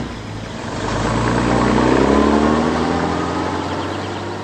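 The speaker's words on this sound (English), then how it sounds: "He's going in his truck." A truck engine rumbles with a low, steady drone that swells louder toward the middle and then eases off slightly, heard close and alone without any voices.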